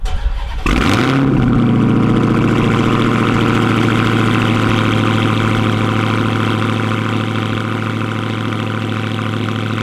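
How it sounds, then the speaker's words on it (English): A Dodge Hellcat V8 cold-starts with a sharp crank, then settles into a loud, steady, rumbling idle nearby, with no voices. "So the Hellcat cold starts have gotten a lot better since Josh tuned it."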